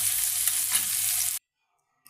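Small river mud fish fry in oil with turmeric and salt, giving a close, steady sizzle with stirring for over a second before it cuts off into near silence.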